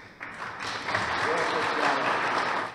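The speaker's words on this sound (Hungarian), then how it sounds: "Tapssal köszöntötték Kósa Lajost a 60-i polgári szalon első estjén." Applause from the audience at a civic salon evening greets a guest speaker, rising quickly into a loud, sustained wash of clapping that fades slightly at the end, with some voices mixed in.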